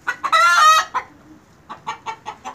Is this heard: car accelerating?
no